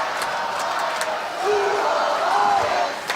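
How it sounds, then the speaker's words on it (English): Spectators cheering from the stands at a Michigan State Championship robotics match, loud and sustained, a dense roar of many voices that swells in the middle and stays high to the end. "we're getting a lot of in-house cheering for both Blue and Red Alliance"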